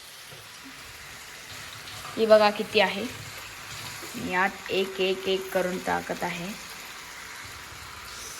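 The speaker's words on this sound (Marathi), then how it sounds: "तर आता कोबी मंचुरी तळायचं चालू आहे" Cabbage manchurian balls fry in hot oil with a steady crackling sizzle that runs throughout, while someone talks over it in a home kitchen.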